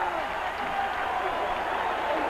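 A stadium crowd at a Wisconsin college football game applauds steadily as the Wisconsin defense leaves the field, a continuous wash of clapping and cheering with a voice talking over it.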